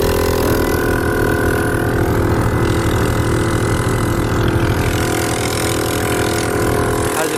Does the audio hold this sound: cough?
no